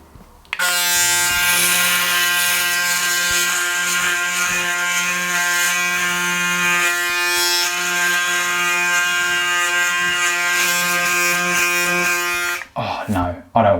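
A Braun Series 9 electric shaver runs against a beard in a steady, close, buzzing drone with a strong motor hum, holding for about twelve seconds before cutting out abruptly.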